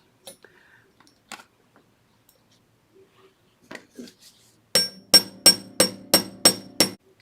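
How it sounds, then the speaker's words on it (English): A few faint light taps, then seven sharp metallic hammer strikes on wire earring loops in a steady rhythm, close and loud, with no talking. "I've hammered both earring loops just to flare it a little bit."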